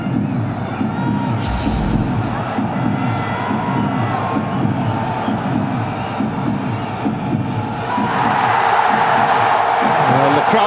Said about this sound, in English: Well, the crowd come to life.